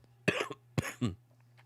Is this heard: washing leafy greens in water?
no